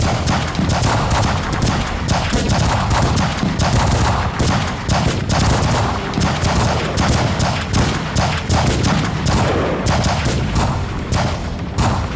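Sig Sauer P365 Xmacro 9mm handgun fired in rapid, continuous strings of shots at a range, loud and close, with overlapping rounds from other shooters and no talk.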